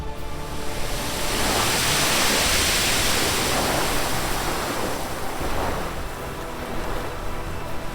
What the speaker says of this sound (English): In winter, Nazaré becomes the stage for the biggest waves ever surfed.